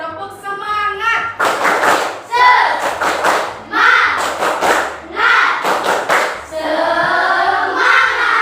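Schoolchildren in an Indonesian classroom perform a tepuk semangat, a patterned clapping chant led by the teacher, with sharp group claps and thumps interleaved with children's chanted voices, loud and close.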